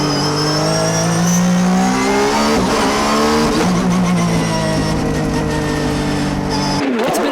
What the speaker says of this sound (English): Tsuchiya goes out on the circuit to feel the car and to make final adjustments.